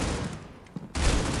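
Rapid bursts of gunfire in the mobile shooter Critical Ops, loud and close, a dense volley that drops out briefly and then resumes just as hard.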